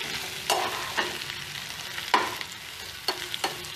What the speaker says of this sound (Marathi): आता हे मी मिक्स करतीये